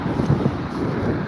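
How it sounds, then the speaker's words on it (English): Gusty outdoor wind buffets the microphone in Kirby, Texas, a loud, low rushing roar that holds steady without pause. "It's getting kind of windy out here."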